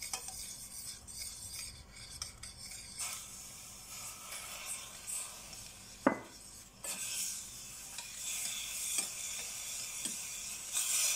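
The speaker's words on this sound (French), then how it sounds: "je vais remuer en évitant que mon caramel crame" Caramel thinned with a little water is stirred in a pan, giving a soft continuous sizzle with scattered spoon scrapes and one sharp clink, fairly quiet and without talk.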